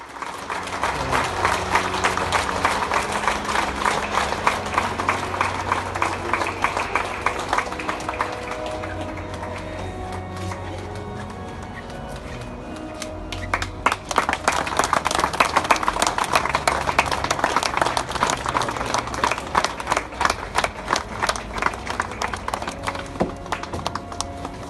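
Crowd applause outside a church in Varese at a funeral, following a release of white balloons: sustained, dense clapping from many people outdoors, dipping briefly midway and then rising again, continuing for about twenty-five seconds.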